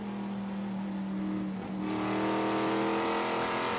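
A Trans Am race car at Sonoma drones at a steady high pitch, dips briefly around mid-clip, then picks up again with a louder, harder engine note, heard from a distance.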